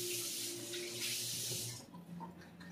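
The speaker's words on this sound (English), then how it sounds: "Fill up with water." Water running from a tap into a robot vacuum's mop tank, a loud continuous rushing splash that cuts off partway through, leaving quieter drips and handling sounds.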